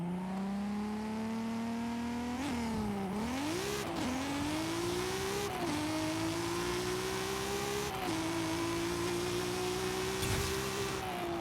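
A 1600 hp 1998 Toyota Supra in Forza Horizon 5 launches on a drag strip, engine droning loud and steady, pitch dipping and climbing through gear shifts before settling into a sustained high-revving roar.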